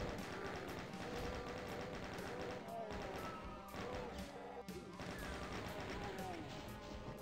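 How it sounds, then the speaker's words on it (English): Rapid, steady chaingun fire rattles on in classic DOOM as imps are mowed down, a continuous stream of shots with brief gaps amid game effects. "There's some imps in here, just chain gun them."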